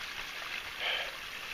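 A small stream trickles beside a hiking trail in Bryce Canyon National Park, a soft steady hiss of running water with a slight swell partway through, heard alone with no talk.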